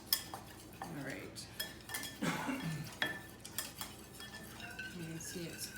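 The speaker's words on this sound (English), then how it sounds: "And whisk this up in here as best you can." Cornstarch mixture whisked in a bowl for beef and broccoli, with scattered clinks and scrapes of utensil against the dish in irregular bursts; a brief word is spoken.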